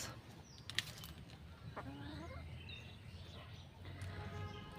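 Soft clucking from desi chickens nearby as they feed on fish scraps, with a few brief scratchy bursts over a low background rumble.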